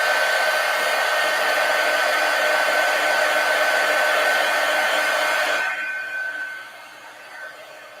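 A hair dryer blows steadily and loudly on painted collage paper, a constant whooshing roar that cuts off near the end, leaving a quieter hum.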